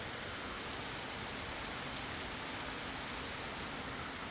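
Steady rain falling outside a home, a dense, even hiss of drops with no breaks, moderately close and continuous throughout, with no voices.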